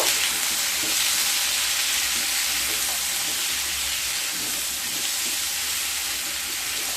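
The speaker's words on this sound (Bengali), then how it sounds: "এবার দিয়ে দেব পরিমাণ মতো লবণ, আর দিয়ে দেব 1/2 চামচ হলুদ গুঁড়ো। দিয়ে আবারও খুব ভালোভাবে মিশিয়ে নেব।" Green tomato curry with salt and turmeric powder sizzles steadily and loudly in a pan while being stirred, the frying hiss continuous and close throughout with faint scraping underneath.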